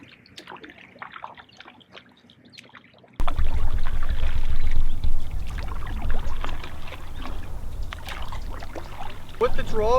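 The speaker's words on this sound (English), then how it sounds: "I'll pull the blade right towards the rail and then slice it out." A paddleboard paddle blade is drawn through the water toward the board's rail and then sliced out, giving splashy, gurgling water noise up close after a quiet opening, with a brief voice near the end.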